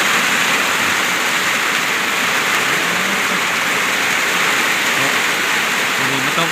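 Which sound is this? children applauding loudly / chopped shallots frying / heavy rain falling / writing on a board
heavy rain falling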